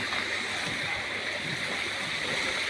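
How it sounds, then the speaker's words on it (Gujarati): Continuous gentle rushing of flowing water, steady and even throughout, with no voices standing out. "પાણી ચાલુ છે અત્યારે"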